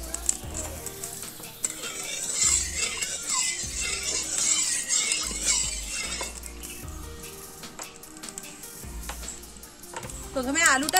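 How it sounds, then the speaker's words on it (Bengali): Potatoes frying in mustard oil in a wok for a village-style chicken curry, a steady sizzle with occasional clinks of a utensil, set against low background music. "প্রথমে আলুটা ভেজে নিচ্ছি।"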